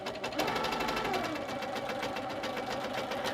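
A sewing machine runs continuously with a fast, even stitching rhythm while sewing curved quilting channels guided by a ruler, close and steady throughout.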